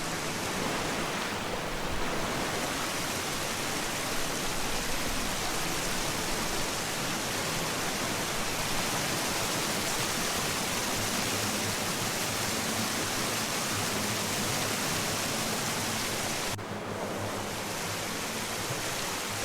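Cold, clear stream water rushes through a gorge at Sergoula, a dense, loud and unbroken close-up roar of flowing water with no voices.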